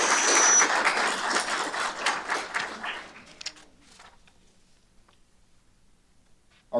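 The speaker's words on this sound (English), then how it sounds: "let's have a round of applause for Firefighter Alec Hardesty" An audience at a fire and rescue service awards ceremony gives a short round of applause. The clapping is dense at first, then thins and fades into near quiet within a few seconds.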